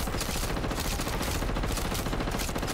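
Sustained, dense automatic fire from the JAK Thunder LMG in Modern Warfare 3 Zombies, a loud unbroken stream of rapid shots with no pause, lasting the whole stretch.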